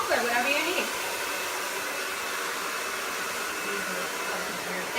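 A hair dryer blows close and steady during salon blow-dry training, with a rising whine at the start before it settles into a constant rushing hum.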